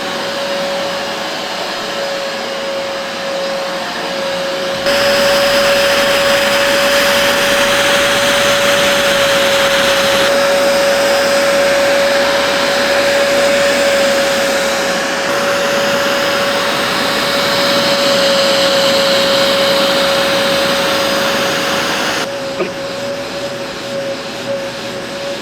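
A BISSELL Revolution HydroSteam Pet carpet cleaner runs loud and close, a steady whining motor hum with a constant pitched tone that surges slightly as it works across carpet.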